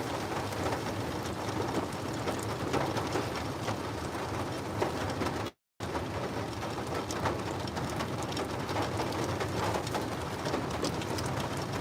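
Rain drums steadily on a storm-chasing car during a Kansas supercell tornado threat, a dense, continuous hiss and patter heard from inside the vehicle, with a brief break midway.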